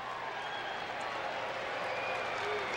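Sellout baseball crowd at a 1992 World Series game between the Blue Jays and Braves in Toronto, a steady broad roar and scattered applause filling the stadium throughout, with no clear voice on top.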